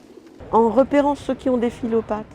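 Pigeons in Paris coo nearby in a short run of soft, throaty warbling calls, several rolling phrases in quick succession over a quiet background.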